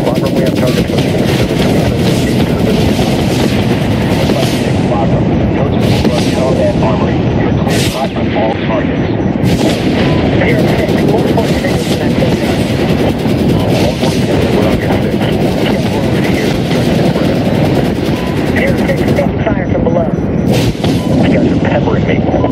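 An Apache helicopter in Medal of Honor fires heavy rounds in a continuous loud barrage mixed with booming impacts and a rumbling engine, with radio chatter running over it.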